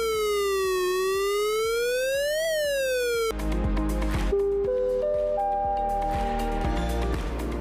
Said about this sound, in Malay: Pertama, bunyi siren amaran.